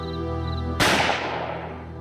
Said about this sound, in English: He heard a gunshot from the cellar.